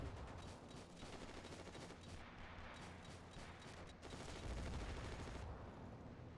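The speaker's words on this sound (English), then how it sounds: "See and hear gunfire." Dense, continuous gunfire in the World War II video game WW2 Online crackles throughout, overlapping bursts and rapid shots with a steady rumbling bed, loud and sustained without pause.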